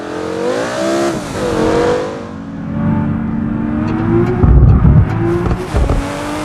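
A car engine sound in the BeamNG driving game, taken from a real car, revs and shifts through the gears with a rising, falling drone and harsh bursts near the end, loud and close.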